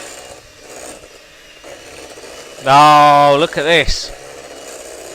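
An electric whisk mixing eclair batter gives a short, loud motor whine that wavers as the beaters work, following a brief spoken remark over quiet kitchen background.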